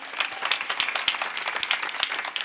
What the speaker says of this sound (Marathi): आपल्या गावासाठी जोरात टाळ्या झाल्या पाहिजेत, जोरात